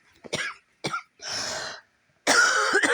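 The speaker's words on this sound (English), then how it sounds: "Any amount of smoke literally sticks in my throat and then I start coughing" A person coughs from smoke in a few separate harsh bursts, with a throat-clearing rasp between them, close and dry with quiet gaps.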